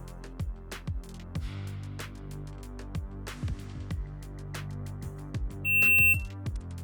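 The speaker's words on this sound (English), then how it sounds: "the timer will give an end signal and finish the session" A short electronic timer end-signal beep rings out near the end, a steady high tone lasting about half a second over a busy background of clicks and hum.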